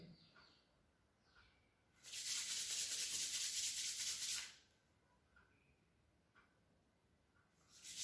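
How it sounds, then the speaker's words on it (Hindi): Two hands rub together vigorously for a couple of seconds during a yoga exercise for knee pain, making a close, loud, brushing hiss that stops abruptly and then starts again at the end, in an otherwise quiet room. "हम दोनों हाथों को जोर से घिसेंगे"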